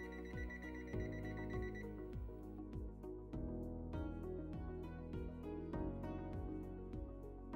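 A steady run of quick electronic beeps from an NRCR device's display repeats in regular groups, fairly faint and alone, with no voices.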